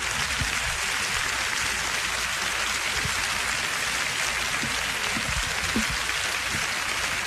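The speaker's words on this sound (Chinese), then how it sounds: "我们也请大家鼓掌致意，" Dense, sustained audience applause at the Golden Horse Awards ceremony, honoring the jury, a steady even roar of many clapping hands filling the whole stretch.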